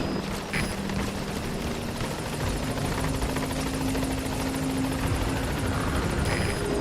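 A support helicopter in the video game Metal Gear Solid V: The Phantom Pain arrives at a landing zone, its rotor thumping steadily with a loud, droning engine whine, sustained and close throughout.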